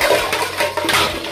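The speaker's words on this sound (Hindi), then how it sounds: "हम फटाफट से पानी डाल दिए, बर्तनों में भर दिया है" Water is poured quickly into dirty dishes and pots at home, giving a loud, close, continuous splashing gush with no talking.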